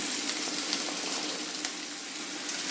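Chopped beans and carrot frying in a pan for momo stuffing give a steady, close hiss of sizzling oil with small crackles and faint stirring, heard alone.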